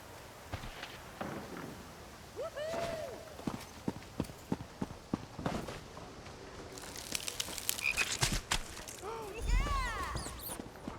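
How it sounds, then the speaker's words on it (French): Frogs croak during a dockside frog race in the video game Elder Scrolls Online, giving repeated chirping croaks and pops amid crowd chatter and footsteps, growing busier toward the end. "Les courses de grenouilles des quais vont commencer dans un instant"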